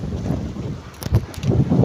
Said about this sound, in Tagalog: Gano'ng ang hangin, boy.